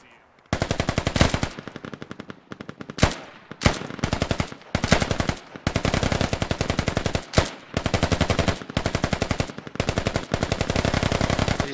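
Sustained machine gun fire from two squads at Ammo Hill in the video game Squad, loud bursts of rapid automatic shots in long strings with brief pauses, continuous and close.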